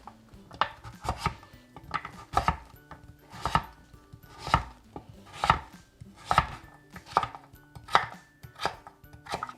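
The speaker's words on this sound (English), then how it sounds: "you'll just cube up your butternut squash" A knife chops butternut squash into cubes on a board, striking in a steady run of about a dozen sharp, close thuds at an even, unhurried pace, with no voices.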